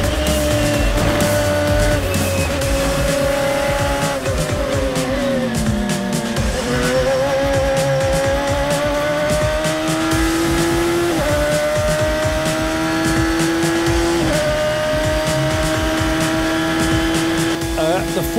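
Race cars roar through a sequence of track corners, engines rising and falling with gear changes and tire squeal, loud and continuous beneath a commentator talking throughout.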